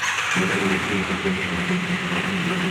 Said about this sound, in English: turn the bike on, start the engine